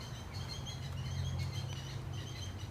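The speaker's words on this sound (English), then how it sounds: "Look, all them birds." A crowd of birds overrunning a village park chirp and twitter in a faint, continuous chorus over a low, steady background rumble.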